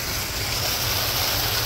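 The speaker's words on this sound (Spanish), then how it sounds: "Miren cómo sale el agua limpia." Clean water gushes out of a pump filter under pressure, a steady, forceful hiss-and-rush heard up close and unbroken.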